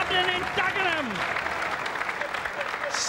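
Thunderous crowd applause rings out for Ronnie O'Sullivan at a pool exhibition match in Dagenham. Sustained, even clapping runs under a commentator talking throughout.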